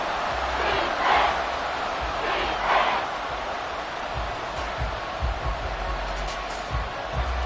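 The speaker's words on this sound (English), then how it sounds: "The Arrowhead crowd in full roar." Football crowd roaring at Arrowhead Stadium during a Kansas City versus Las Vegas game, a dense continuous wash of cheering with swells around the first few seconds and scattered low thumps, loud and sustained throughout.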